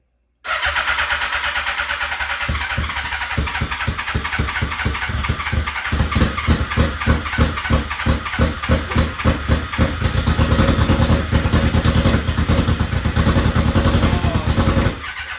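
A Suzuki GSX-R1000 motorcycle engine runs loudly and unevenly close by, its idle sputtering and pulsing irregularly as if firing on two cylinders, with revs rising slightly toward the end.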